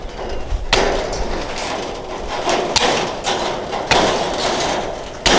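Tin snips cut through wire mesh for a rabbit guard around a young tree, giving a run of sharp, close clipping snaps at irregular intervals over a steady rustling background, with no speech.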